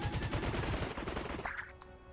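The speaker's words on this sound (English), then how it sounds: "I'll shoot him." Rapid burst of gunfire from a Mario + Rabbids Kingdom Battle turn-based combat game, a quick loud rattling volley lasting about a second and a half, then a short high ring as it fades.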